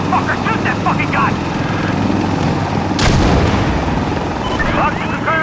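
Gunfire and rocket explosions in the shooter Insurgency: Sandstorm, a loud blast cutting through a constant roar of battle and aircraft noise, with shouted voices over the combat.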